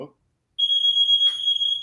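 A timer alarm sounds as a steady, piercing electronic tone, loud and close, sustained after a brief silence, with a short murmur of voice partway through.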